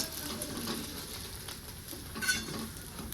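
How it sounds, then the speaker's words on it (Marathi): Sabudana vadas fry in hot oil with a steady, close sizzle and crackle, broken by occasional light stirring and utensil contact, no voices. "असंच आता मी सगळे तळून घेणार आहे"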